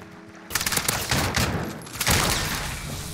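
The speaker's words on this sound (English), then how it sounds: "How did he whiff that with a fire shotgun?" Fire shotgun blasts in a multiplayer first-person shooter match, a burst of loud booming shots starting after a brief quiet lead-in, with heavy overlapping gunfire continuing to the end.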